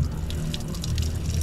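Steady rush of tap water flushing through a car radiator during rust cleaning, a continuous close splashing flow.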